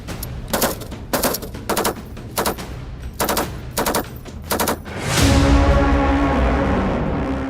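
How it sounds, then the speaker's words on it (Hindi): T-90 and T-72 tanks and BMP infantry vehicles firing together during an Indian Army exercise in forward Ladakh, rapid bursts of automatic gunfire in repeated volleys, then a sustained loud rumbling blast that lingers. "इसमें T-90 टैंक्स, T-72 टैंक्स और साथ में BMP एक साथ फायर कर कर ये अभ्यास कर रहे हैं।"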